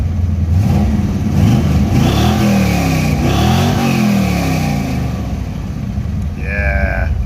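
A 1976 Chevy Nova Custom with a 355 small-block V8 and a Holley carburetor revs up and falls back several times, loud and close, with rising and falling engine tones and a brief higher whine near the end.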